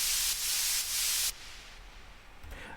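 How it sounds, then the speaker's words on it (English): A reverb-generated noise effect in an electronic dance track, a loud bright wash of hiss that swells and holds for over a second, then drops to a quieter decaying tail with a faint flutter near the end. "And I decided to make this noise with a reverb."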